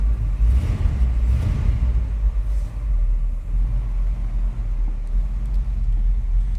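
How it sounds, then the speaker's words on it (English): A 1955 Mercury Montclair hardtop's 292 V8 idles with a steady, loud, deep rumble, running continuously and close without speech. "let's fire it up. 292 V8."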